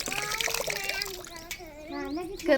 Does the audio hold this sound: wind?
no